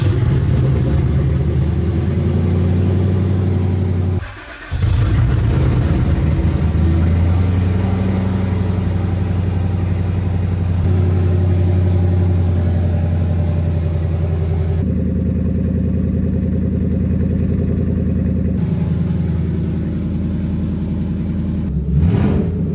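A rebuilt twin turbo Mustang engine idles steadily up close with a low, thick rumble, interrupted by a brief rev and a drop, then continues idling evenly.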